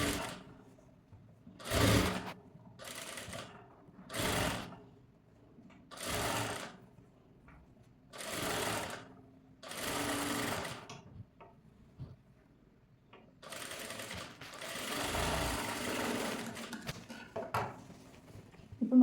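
Electric sewing machine stitching piping onto a princess-cut blouse, running in about eight short, even bursts separated by quiet pauses, then a longer continuous run near the end; close and clear with no talk.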